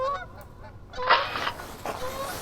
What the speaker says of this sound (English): But wait, hear that? Canada geese.